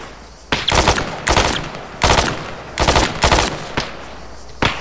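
Gunfire in the video game Arma 3: loud, close bursts of automatic fire in short clusters with brief quiet gaps between them.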